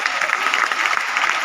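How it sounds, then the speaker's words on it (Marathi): An audience at a Lokmat Sakhi Manch women's event claps for the sponsors, a loud, dense, continuous round of applause from a crowd, heard close and without pause. "तर एकदा जोरदार टाळ्या सगळ्या प्रायोजकांसाठी झाल्या पाहिजेत."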